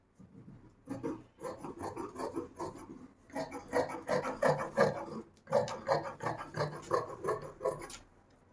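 Scissors cut flowing chiffon fabric along a paper pattern in close, soft rasping strokes that come in three bursts separated by short pauses, quiet overall.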